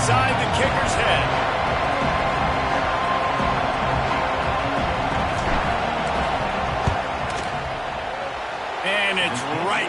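Stadium crowd roar in a college football video game as the kicker lines up, a steady dense wash of noise throughout with commentary voices over it.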